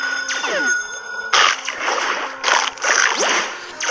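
Jellyfish being eaten in an ocean survival video game, a series of wet squishy splashing bites with bright ringing tones, several bursts spaced about a second apart.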